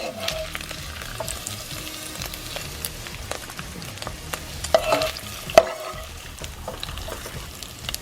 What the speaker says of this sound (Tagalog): Magigisa tayo ng sibuyas at bawang.